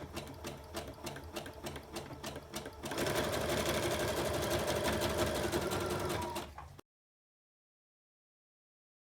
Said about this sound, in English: put in a zigzag stitch along the raw edge